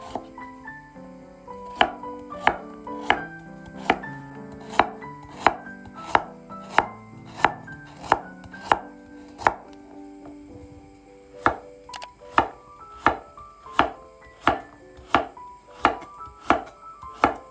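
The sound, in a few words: slicing carrots into rounds with a knife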